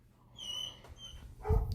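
Dogs barking and whimpering, a few sharp yelps building to a louder bark near the end, fairly close, with no talk over them.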